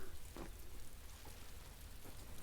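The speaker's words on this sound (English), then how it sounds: "The rain makes it all laggy." Steady rain from a strategy video game, a dense continuous patter with a few sharper drop-like ticks and no voices over it.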